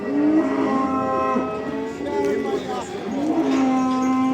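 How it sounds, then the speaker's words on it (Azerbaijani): Calves mooing at a livestock market, drawn-out lowing calls that overlap one another and fill the whole stretch, loud and close with a busy market murmur beneath. "İki dənə dana var."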